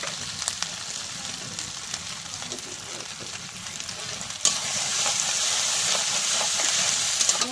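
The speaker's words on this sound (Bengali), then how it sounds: "জল দিয়ে দিচ্ছি আমি গুঁড়ো দিয়ে দিচ্ছি আমি" Water and spice powder go into a hot pan of frying vegetables, a steady close sizzle with stirring scrapes that surges into a louder, brighter hiss as the liquid hits the oil.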